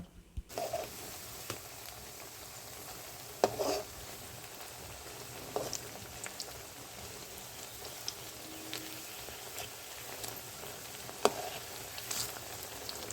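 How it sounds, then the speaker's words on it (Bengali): Bottle gourd peel fritters deep frying in hot oil give a steady, low crackling sizzle throughout, with a few sharper pops and spatters standing out now and then. "এবার কিন্তু উল্টে পাল্টে ভেজে নিতে হবে এটা একদমই শ্যালো ফ্রাই হবে না ডিপ ফ্রাই হবে"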